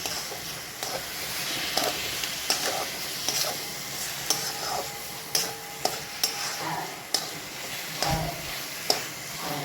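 Carrot halwa with cashews, almonds and raisins is stirred in a pan, a soft sizzle under repeated scraping strokes of a spoon against the pan at an irregular pace.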